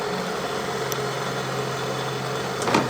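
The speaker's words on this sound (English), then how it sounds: "The motor is running now" Small electric motor of a diesel pump running steadily after a repair, a constant close hum with a faint whine and a brief click near the end, no voices.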